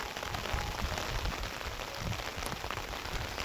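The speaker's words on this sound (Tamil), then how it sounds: "சரியான மழை ஃப்ரெண்ட்ஸ்" Heavy rain falling in forested mountains, a dense, steady hiss of downpour that fills the whole span without pause or voices.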